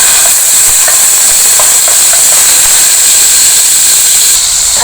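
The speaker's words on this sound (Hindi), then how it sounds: "ये बटर हमने थोड़ा सा इसमें डालकर और बिल्कुल मेल्ट कर लेना है।" Butter melts in a hot pan for kofta curry gravy, with koftas frying alongside, producing a loud, steady, close sizzling hiss with faint crackles that runs unbroken throughout.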